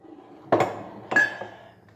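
Dishes clinking during washing up at home: two sharp ceramic and metal knocks about half a second apart, with a short ringing tone after the second, in a quiet room.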